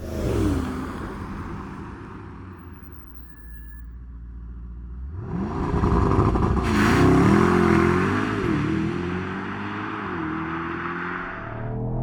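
A Mercedes-AMG GT 55 V8 coupe idles with a low burble, then its engine roars up in a launch-control start, climbing through several rising gear pulls, loud and close, with no talk over it.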